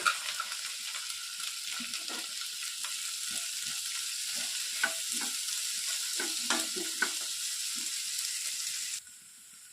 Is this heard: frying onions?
yes